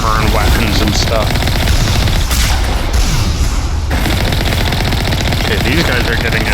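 Heavy vehicle weapons on the Mako in Mass Effect firing continuously, dense booming bursts with explosions and engine rumble throughout, someone talking over the combat noise.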